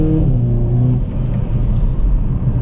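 A 2022 Hyundai Kona N engine rumbles and revs loudly close by, a deep throaty roar that rises and falls slightly.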